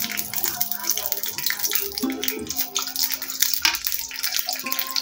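Green and dried chilies sizzling in hot oil in a pan, a steady dense crackle and hiss close by with a faint background hum and a voice under it.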